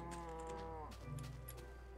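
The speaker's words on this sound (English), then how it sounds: "Gonna go insane if I hear another moo." A cow moos repeatedly in the Minecraft video game, its blocky, low-pitched bellow stretching out in long drawn calls close by, standing alone without talk.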